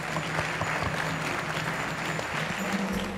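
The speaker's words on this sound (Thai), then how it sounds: "ขอเสียงปรบมือได้เลยครับ" Audience clapping at a Thai talk show as guest doctors are welcomed, a dense, steady round of applause from a modest crowd.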